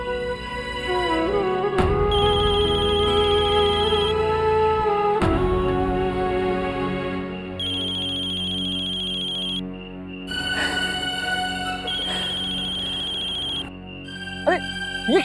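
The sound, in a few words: phone ringtone, incoming call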